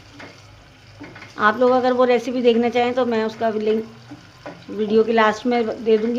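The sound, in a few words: masala frying in oil for chana dal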